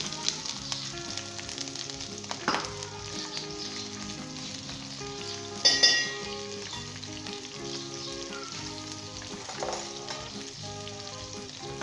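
Ginger, green chillies and onions fry in a pan for a potato and okra curry, making a continuous moderate sizzle with a faint musical background and a few sharper crackles.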